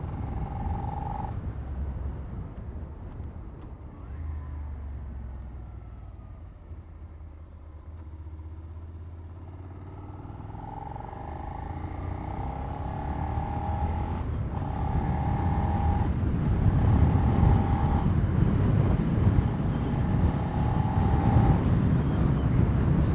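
A brand new Suzuki SV650X motorcycle engine rumbles low under heavy wind buffeting, its note rising through a gentle acceleration pull kept below 5,000 RPM, with short tonal beeps recurring over the steady roar.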